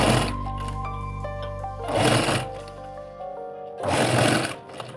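A sewing machine stitches piping onto a blouse in two loud, close bursts of rapid mechanical whirring. A lower drone runs steadily between the bursts.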